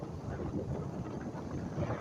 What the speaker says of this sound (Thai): แต่คลื่นลมแรงมากครับ